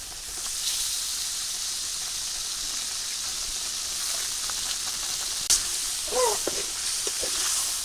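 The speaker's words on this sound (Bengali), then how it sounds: "মশলা কষানো হয়ে গেছে আর আমি দুধটা দিয়ে দিলাম" Milk goes into a pan of spice masala that has been fried down, and it hisses in a steady, even sizzle from start to finish. Brief faint sounds and a short voice come near the end.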